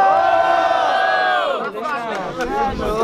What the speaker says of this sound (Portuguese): quem gostou das rimas do Mota faz muito barulho